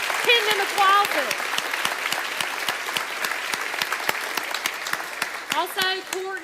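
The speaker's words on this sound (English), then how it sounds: "let's give them all a round of applause" Steady applause from an audience at a small town hall gathering, a crowd of hands clapping continuously for several seconds, close and moderately loud, with a voice speaking over it at the start and near the end.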